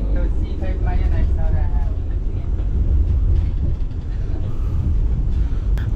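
A Vande Bharat express train accelerating out of Asansol, heard from inside as a steady low rumble and rolling hum beneath a person talking throughout.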